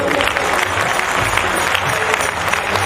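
A large crowd at a religious assembly breaks into loud, dense applause, a continuous roar of many hands clapping with faint voices mixed in.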